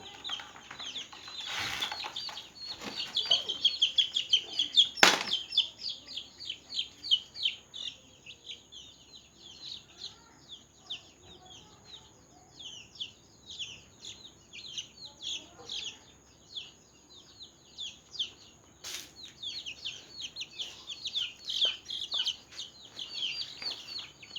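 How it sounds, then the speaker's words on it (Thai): Week-old nursery chicks peep and cluck in a busy, continuous chorus of high chirps, with a louder burst early on and softer stretches between, close by and without speech. "อันนี้ลูกไก่ประมาณอาทิตย์กว่านะครับผม"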